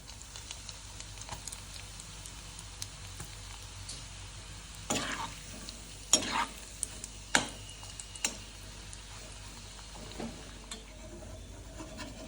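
Salted dried mutton (uppukandam) frying in a pan, a steady soft sizzle throughout with a few sharp louder crackles and pops near the middle; no talking.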